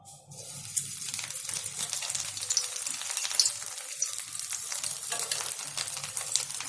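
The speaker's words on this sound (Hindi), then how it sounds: "आप देख रहे हैं हमारा दिल फ्राई हो रहा है" Heart-shaped bread pieces deep-frying in hot oil in a kadhai, a steady dense crackling sizzle that holds strong and close with no voices.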